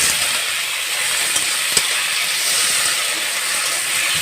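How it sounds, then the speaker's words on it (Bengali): Chopped tomato frying in a pan with onions already browned, a steady soft sizzle and hiss throughout with a faint stirring tap, close and alone with no talk. "টমেটোটা একটু ভেজে নিই।"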